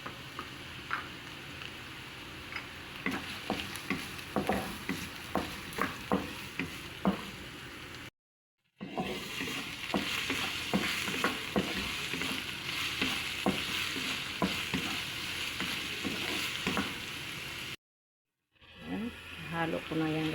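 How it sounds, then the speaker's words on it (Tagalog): Vegetables with turmeric (luyang dilaw) and carrots sautéed in a pan at home, a steady crackling sizzle broken by repeated scraping stir strokes, close up, with two brief silent cuts. "Igisa ko muna ito."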